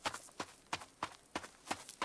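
Horse hooves in the survival video game Rising World, a regular clip-clop of about seven evenly spaced hoofbeats at a walking pace, close but quiet.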